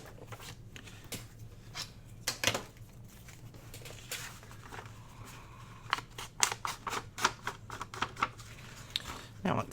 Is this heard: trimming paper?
yes